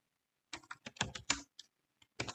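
Quiet, crisp keystrokes on a computer keyboard while Verilog code is typed, coming in a quick irregular burst of clicks followed by a couple of isolated taps, close by with no talking.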